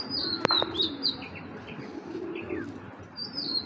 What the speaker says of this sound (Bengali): কবুতরগুলো মাদি কবুতর ভাই